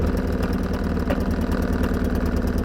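A Ryobi RYI2300 portable generator runs steadily on choke after a single pull, its small engine chugging in an even, close, loud idle with a fast rhythmic pulse throughout and no talking.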